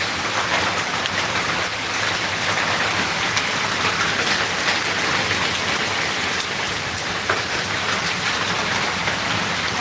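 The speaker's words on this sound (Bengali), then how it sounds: "বারান্দায় শিলা করছে" Dense, steady patter of hailstones striking a veranda nearby amid wind, a constant hiss-like clatter with occasional sharper hits and no voices.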